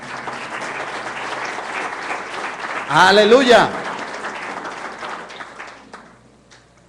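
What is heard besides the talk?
church congregation applause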